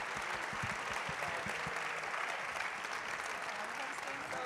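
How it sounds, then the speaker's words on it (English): An audience applauds after a film screening at Ebertfest, with steady full clapping throughout and a few sharper individual claps early on. "One more round of applause for this amazing movie."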